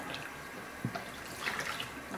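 Water pours steadily as a baby's hair is wetted during a home bath, a continuous close splashing and trickling with a few small drips, with no talk.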